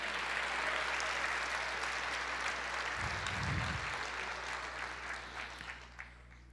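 A church congregation claps together in a steady, dense burst of applause that swells briefly in the middle and then tapers off, with no voices on top.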